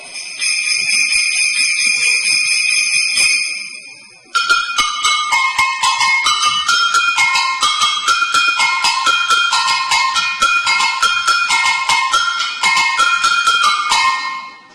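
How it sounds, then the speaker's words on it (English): Bright metallic jingling rings continuously, a shimmering bell tone that briefly dips then resumes with steady shaken rhythm. "some of the metal instruments, the sleigh bells"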